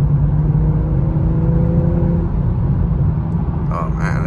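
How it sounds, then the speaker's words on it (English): A 2022 BMW M340i with a resonator delete and an exhaust leak drones steadily while driving, a low constant engine hum and whir heard from inside the cabin, with a brief louder burst near the end. "But just listen to that engine though."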